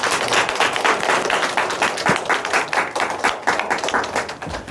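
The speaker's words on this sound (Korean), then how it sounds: "우리 하나님께 영광의 박수 올려드립니다." A church congregation at a Sunday morning service claps together in praise, a loud, close, continuous patter of many hands with uneven rhythmic swells.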